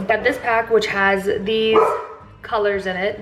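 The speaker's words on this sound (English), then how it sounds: "Sorry for my dogs." Several dogs bark indoors during a shopping haul, sharp repeated barks mixed in and overlapping with someone talking over them.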